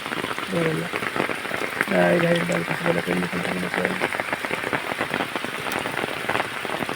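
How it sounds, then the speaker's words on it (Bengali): Heavy rain falls steadily throughout, a dense continuous patter on surfaces. Several short calls or voices rise briefly over it early on. "দেখুন কি অজস্র বৃষ্টি হচ্ছে"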